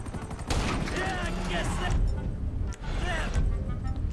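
Gunfire in the GTA V video game during a street gang brawl: bursts of shots crackle over dense game noise while a voice talks over most of the clip.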